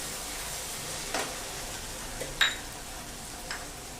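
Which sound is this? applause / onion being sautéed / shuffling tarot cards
onion being sautéed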